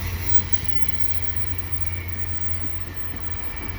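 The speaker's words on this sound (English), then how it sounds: "This is the Northern Quebec train." Via Rail's Northern Quebec passenger train, made up of Budd cars, rolls past on the Atwater Curve after leaving Central Station, a steady distant rumble of wheels on rails with a faint high squeal and no talk.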